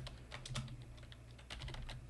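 Quick bursts of keystrokes on a computer keyboard, typing a web address into a browser on a Windows 10 PC, steady and close with no voices.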